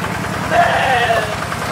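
A neighbour's large imported sheep bleats in a pen, a steady mid-pitched bleat rising over a constant low engine-like hum, close and fairly loud.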